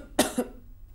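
Two quick, close coughs from one person, the first sharper and louder, the second softer, followed by quiet room background.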